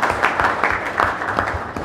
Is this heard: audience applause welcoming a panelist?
yes